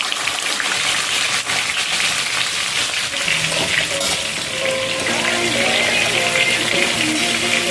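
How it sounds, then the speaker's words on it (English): Red snapper fish frying Jamaican escovitch style, a steady broadband crackle and hiss of hot oil running throughout at close range, with faint background voices and light kitchen clatter. "Doing Escovitch fry fish, Jamaican style. And these are red snapper fish that I'm working with."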